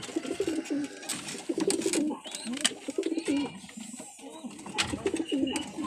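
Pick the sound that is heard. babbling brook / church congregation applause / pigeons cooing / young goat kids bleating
pigeons cooing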